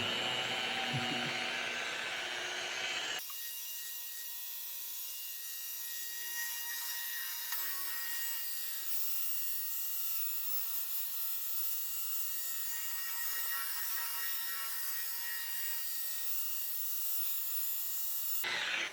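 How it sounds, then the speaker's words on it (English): Steady rubbing and buffing on the polished metal skin of a P51 Mustang warbird, a continuous close scraping texture that starts loud and carries on evenly without pause. "I can see the gloss coming through, so I just need to buff all this off."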